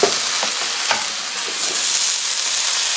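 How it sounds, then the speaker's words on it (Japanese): Thinly sliced ingredients, cut diagonally, hit a hot frying pan with a loud, steady sizzle that fills the clip, with a few soft clicks and knocks of the pan. "切ったら、そのまんま、こちらのフライパンにね、投入します"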